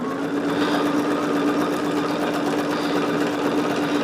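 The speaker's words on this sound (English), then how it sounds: "I'm sewing right next to that center point" A sewing machine stitches quilt pieces with a steady, close, fast mechanical whirring hum and rapid needle rhythm that runs continuously without pause or talk.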